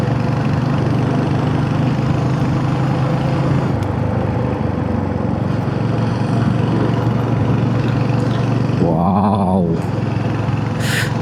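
Royal Enfield Hunter 350 single-cylinder motorcycle on the ride toward Araku Valley, a steady engine drone mixed with heavy wind rush, loud and continuous throughout, with a brief exclaiming voice near the end.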